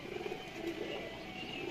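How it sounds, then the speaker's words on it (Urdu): Pigeons in a fancier's loft give soft, low cooing calls, faint and murmuring against a quiet background, with no voices. "اصل میاں صاحب والے تصویر والے کبوتر"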